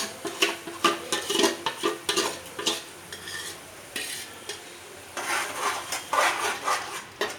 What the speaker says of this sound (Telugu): ఇప్పుడు మనం చేసి పెట్టుకున్న ఈ మిక్సీ వేసి పెట్టుకున్న గ్రేవీని ఇలా వేసేసుకోవాలి.